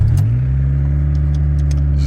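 A Honda Civic RT4WD wagon engine running with no muffler fitted, giving a loud, steady, close-up low droning rumble after a brief rev at the start.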